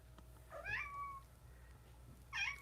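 An indoor house cat meows twice, each call short and rising, about two seconds apart. The calls are close but soft over a quiet room hum, with no talking.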